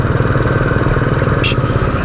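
A motorcycle cruising smoothly along a road on a ride toward Mandla, its engine a steady, loud, continuous drone throughout with a brief higher-pitched whine midway.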